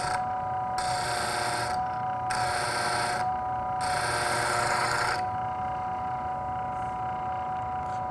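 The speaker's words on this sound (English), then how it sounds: "just push the tool straight into the wheel. Not a lot of pressure, let the wheel do the grinding." A bowl gouge is sharpened on a spinning grinding wheel, with three bursts of harsh, hissing grinding as the tool touches the wheel, set over the steady hum of the grinder motor running close by.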